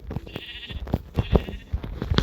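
Sheep in a video game bleat repeatedly in short, nasal calls over a busy background of clicks and thuds, close and fairly loud.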